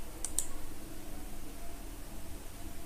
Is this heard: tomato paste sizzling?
no